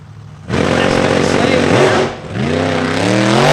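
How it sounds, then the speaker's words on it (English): A funny car dragster's big engine roars loud and close, dips sharply for a quick throttle blip, then surges back with rising harmonic pitch, as a track announcer talks over it. "Quick blip, back on the throttle, and the dragster goes 559 at 134."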